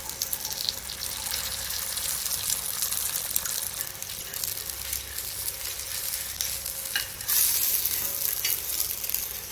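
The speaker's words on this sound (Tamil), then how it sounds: "இது நெய்யில் தான் சுடுவாங்க." Thiruvathirai adai cooking in ghee on a dosa griddle, a steady close crackling sizzle lasting throughout, growing slightly louder near the end.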